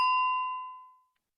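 One bright bell ding from Read Naturally Live reading software, struck once and ringing out cleanly for about a second over silence.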